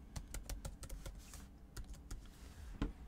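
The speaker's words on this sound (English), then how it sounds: "Now I can type in my new password, confirm that password" Typing a new password on a computer keyboard, a quick run of light key clicks that taps along in uneven rhythm at close range with a slightly louder keystroke near the end, no voices present.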